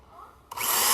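A power drill bores drain holes into a plastic bucket for a sub-irrigated fig pot, a faint motor whine suddenly jumping to a loud, harsh grinding whir as the bit bites in.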